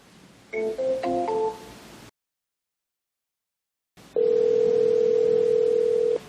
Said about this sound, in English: Now let's make a phone call to our first contact.